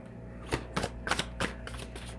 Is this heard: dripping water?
no